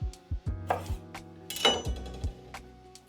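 A knife chops parsley root on a board in a kitchen, giving a handful of sharp, close knocks at an uneven pace with brief ringing in between.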